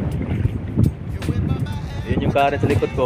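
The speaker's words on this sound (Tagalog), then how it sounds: "pagpasensyahan nyo na po yung hangin" Strong wind buffets the microphone at sea beside a lighthouse, low gusty rumbles pulsing throughout while someone talks over it.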